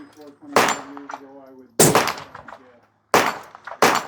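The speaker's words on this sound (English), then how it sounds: "Justin is going to shoot the 25 RPM." Three sharp, loud 25 caliber rifle shots from a Mark V Accumark firing 135 Berger bullets, each a hard crack with a trailing echo, spaced apart with brief talk between them.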